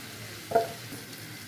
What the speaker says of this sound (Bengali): লাল লাল করে ভেজে নেবো আলুগুলোকে